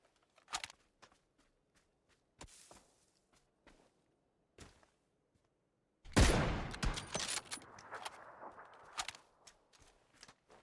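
Machine gun fire in the battle royale game PUBG: scattered single shots and footsteps at first, then a loud, dense burst of automatic fire that rattles on for several seconds with no talk.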